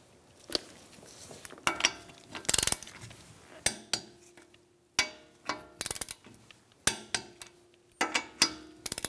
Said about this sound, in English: We're going to torque our wheels to 80 foot-pounds.